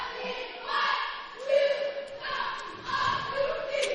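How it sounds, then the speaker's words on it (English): High school basketball cheerleaders shout their opening chant in a gym before a boys' game, rhythmic group voices rising and falling in sustained chanted phrases at moderate distance, with light crowd murmur beneath. "See their cheerleaders giving their opening cheer"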